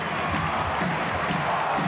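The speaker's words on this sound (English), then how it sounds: "you hear the crowd" Crowd noise at a junior ice hockey game between the Tri-City Americans and Kamloops Blazers, a steady wash of arena cheering that fills the whole short moment without any break.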